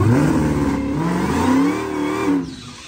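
A Trackhawk or Hellcat Charger revs hard and drives through a freshly dry-hopped prep at a drag strip, its loud engine roar rising and falling steadily for about two and a half seconds, then cutting off.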